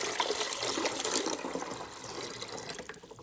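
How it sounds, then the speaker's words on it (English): Drinking water pours into the reservoir of a nugget ice maker, a steady splashing trickle close by that weakens and thins toward the end, with no talking. "So we're going to add the water in"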